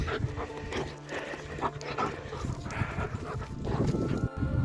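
A dog pants in quick, rhythmic breaths close by, with light rustling and shuffling around it, outdoors in a winter garden.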